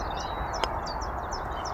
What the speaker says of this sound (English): nice to hear the reed bunting singing down the fairway, like an exciting house sparrow with just three little cheeps